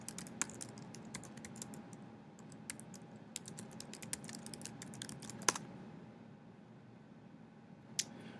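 Rapid, quiet clicking from a computer keyboard as a sudo command is typed, with bursts of keystrokes, a brief pause and a final isolated tap over a low background hum.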